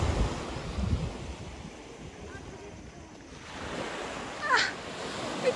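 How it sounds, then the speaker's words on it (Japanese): Ocean surf on the rocky seashore of western Izu, Shizuoka, a steady broadband wash with wind noise throughout, swelling slightly near the end, as voices talk and laugh over it. "ミキさんが海に挑んでいく"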